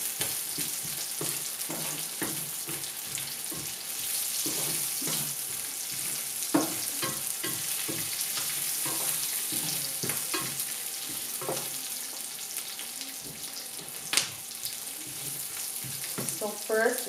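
Onion and vegetables sizzle steadily in a hot pan, a continuous crackling fry with clinks and stirring scrapes of a utensil against the pan throughout.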